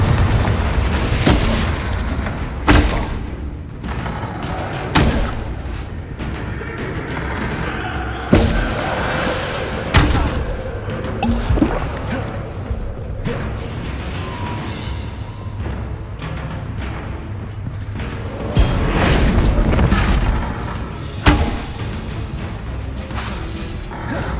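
Spell explosions from Confringo and Bombarda in the Hogwarts Legacy video game, booming and thudding repeatedly at close range over a dense game soundtrack, with several sharp, heavy impacts spread across the clip.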